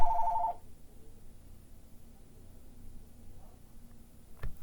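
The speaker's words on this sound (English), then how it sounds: "the phone rings right in the middle of me recording" A telephone rings once in a room, a short two-tone electronic ring at the start, followed by a quiet background and a faint click near the end.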